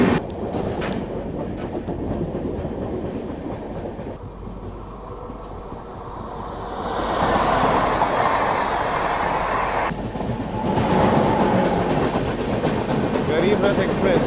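An express train, the Andhra Pradesh Superfast, rumbles past close by at Ramagundam in Telangana with loud continuous rolling and wheel clatter that swells toward the end. A voice is faintly audible under the noise.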